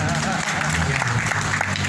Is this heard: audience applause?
yes